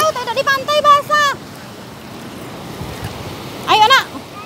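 Steady surf from ocean waves washing onto a beach forms a continuous wash of noise, with children's voices and calls rising over it at the start and end.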